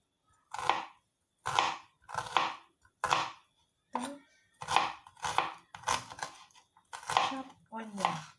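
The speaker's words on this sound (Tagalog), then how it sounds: "chop onion" A knife chops onion on a cutting board for a homemade burger steak curry, about eleven sharp, evenly spaced knocks, close and crisp with short silent gaps between them.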